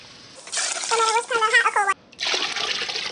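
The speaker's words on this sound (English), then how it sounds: "She's going to add more water." Water gushes and splashes into a large 22-quart pot close by, with a person talking over it; the flow stops briefly and then resumes.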